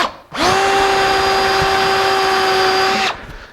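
A power drill with a Forstner bit whines steadily for about three seconds as it bores into wood, starting and stopping abruptly.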